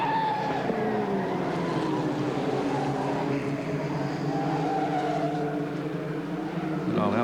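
Race cars at Amaroo Park in a 1988 AMSCAR series race, engines droning steadily and shifting in pitch as they pass, heard at a distance under a continuous wash of noise.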